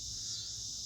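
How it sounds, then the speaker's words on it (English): Cicadas drone outdoors in Virginia, a steady continuous high-pitched buzz that holds level throughout without pause. "sorry about the cicadas"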